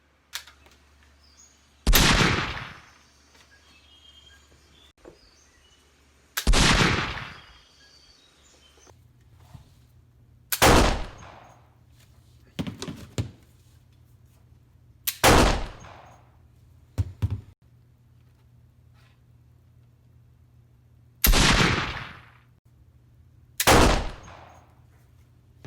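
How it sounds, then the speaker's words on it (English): A scattered volley of gunshots sounds as an effect, six or so loud, sharp cracks spread irregularly with pauses between them over a faint low hum. "The 4 shots came in a rather scattering volley"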